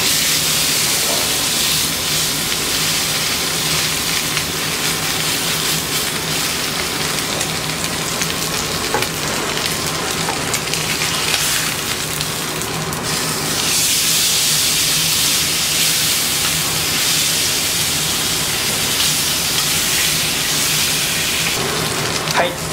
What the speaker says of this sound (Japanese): もう強火でね、もうガガッと焼いていく感じです